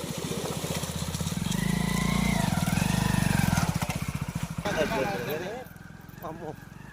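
A motorcycle rides through a forest area on the way to Manjuluru waterfall, its engine droning and rising briefly in revs before easing off, close by beneath speech throughout.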